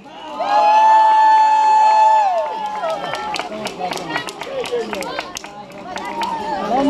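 Outdoor festival crowd at a lakeside town celebration applauding and cheering after a long sung note, a dense burst of clapping with shouts and chatter, fairly close and loud.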